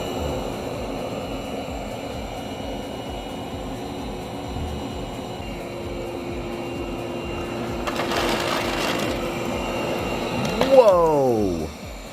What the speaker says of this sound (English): these are probably some of the more extreme things that you're going to be sucking up with this vacuum